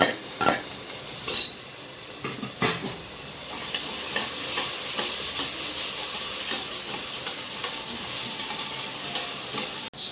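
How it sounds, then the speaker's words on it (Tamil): Ginger garlic paste and onions sauté in a pan with a low, steady sizzle, broken by sharp spoon clinks and scrapes against the metal, a few louder knocks early and one near the end; no talking. "இப்போ இஞ்சி பூண்டெல்லாம் நல்லா வதங்கி வந்துடுச்சு"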